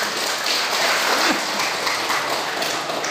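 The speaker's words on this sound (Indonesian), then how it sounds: "tepuk tangan untuk kita semua." Audience applause at a Pemuda Pancasila branch congress in Indonesia: a dense, steady wash of clapping, fairly loud and unbroken for about three seconds, with no voices over it.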